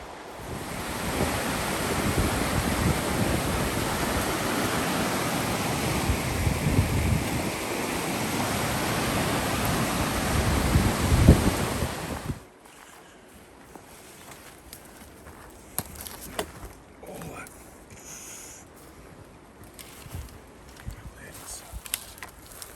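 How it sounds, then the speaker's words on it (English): Two mountain waterfalls meeting on the trail to Castleguard Meadows roar as a loud, steady broadband rush for about twelve seconds, then cut off abruptly to quiet outdoor background with faint rustling. "Arrived at a beautiful set of two waterfalls coming together"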